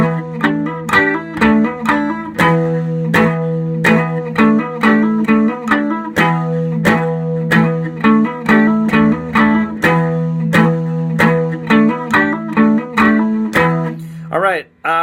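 Distorted electric guitar chugging through a full main riff, a driving run of rhythmic palm-muted notes played close and loud on its own, ending with a quick slide.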